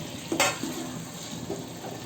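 Curry leaves and tomatoes fry in a pan for a bottle gourd (surakkai) lunch dish, opening with a brief sharp sizzle burst and then settling into softer frying and stirring noise with light pan contact.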